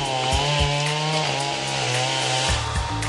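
Chainsaw running in a Peruvian rainforest, picked up by a monitoring recorder: a buzzing two-stroke engine drone that holds steady and then shifts pitch, with short revving bursts near the start and end.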